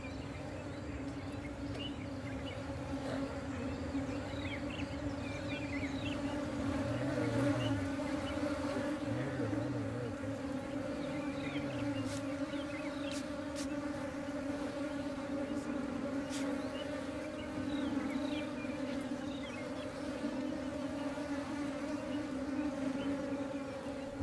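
Dense, steady buzzing of a crowded wild honeybee nest in Kenya during a traditional honey harvest, a close, continuous drone of many bees with faint rustling and occasional background movement.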